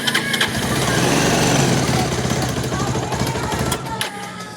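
A Kawasaki Rouser motorcycle, run on choke, fires up and settles into a loud, rough, rapidly knocking idle, close by; the engine may have a mistimed scissor gear.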